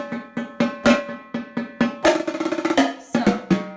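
Crisp, rapid strikes on marching quad tom drums, a rhythmic tap-off solo of sharp hits and quick rolls, close and loud, with no other sound.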